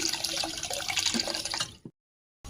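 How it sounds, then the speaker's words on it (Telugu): A brief splashing gush of water poured into a pan for sugar syrup while making rice flour laddus, ending suddenly in silence. "కొన్ని వాటర్ వేసుకుని"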